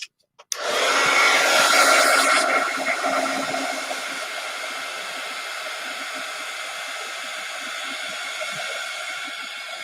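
An embossing heat tool blows hot air over an embossed calling card, switching on after a brief click and producing a loud, continuous rushing whoosh that eases slightly in intensity and continues steadily without speech.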